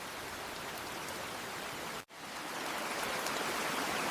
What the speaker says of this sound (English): Everyone is inside because of the rain